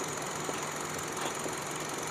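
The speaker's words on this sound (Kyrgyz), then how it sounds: "мотор сонун абалда иштеп турат" A car engine runs steadily with the hood open, a continuous even idle hum with faint knocking close by, no one talking.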